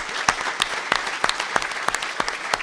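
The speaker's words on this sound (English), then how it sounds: "Round of applause, please" A crowd at a City Club of Chicago event gives scattered applause, with individual claps and sharp peaks standing out over a softer wash of clapping.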